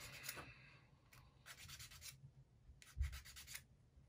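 A small wooden UGears model part is sanded by hand in short, quiet scratchy strokes separated by pauses, close up with no talking.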